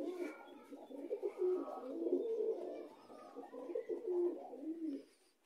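Pigeons in a loft coo softly and repeatedly, low throaty rolling calls close by over about five seconds, with faint chirps behind and no talking.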